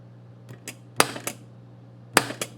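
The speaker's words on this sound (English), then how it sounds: "So we know the coil's working." Sharp metallic clacks from a pinball coil firing on a Williams Flash System 3 machine under repair, a few distinct close snaps with quieter ticks between them over a low electrical hum.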